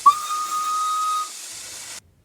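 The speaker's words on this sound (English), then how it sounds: "Evans the Song listened to Ivor's whistle" Steam whistle of Ivor the Engine, a small Welsh steam locomotive, one clear sustained high whistle blast over a hiss of steam, trailing off into a soft hiss before cutting to silence.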